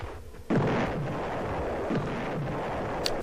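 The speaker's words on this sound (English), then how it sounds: "lob a few grenades" Grenades exploding in the Amiga game Alien Fish Finger, two heavy booming blasts about a second and a half apart over a dense, noisy game soundtrack.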